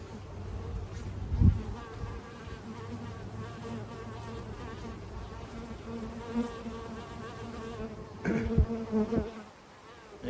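A steady honeybee buzz hums throughout, like bees swarming close by, during queen bee marking, with a few brief louder thumps and rustles near the start and toward the end.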